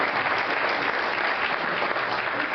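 An audience claps steadily in a hall after speakers are introduced at a presentation on physical education studies, dense and even applause throughout with no voices on top.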